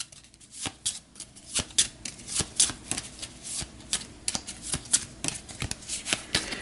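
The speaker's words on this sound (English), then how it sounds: "We'll give these a shuffle as well." A deck of board game cards is shuffled by hand, a close riffle of rapid crisp flicks and soft slaps running steadily throughout, with no talking.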